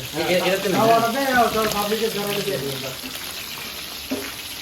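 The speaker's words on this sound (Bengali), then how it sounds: "এভাবেই বন্ধুদেরকে ইলিশ ভাজতে দিয়ে" Hilsa fish slices fry in hot oil outdoors at a riverside ghat on the Padma, a steady close sizzle and hiss running beneath voices talking nearby.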